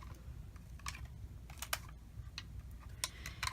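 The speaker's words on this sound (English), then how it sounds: "I'm going to use my Xyron sticker creator." A Xyron sticker creator feeds paper through with soft, irregular clicks and taps, close and fairly quiet, spread across a few seconds with no talking.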